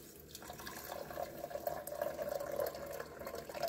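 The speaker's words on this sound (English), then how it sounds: "I'm just gonna pour hot water in it and we'll recrystallize it one more time" Hot water poured over potassium nitrate crystals during recrystallization, a steady close liquid splash and trickle with a rising fill tone, no voices.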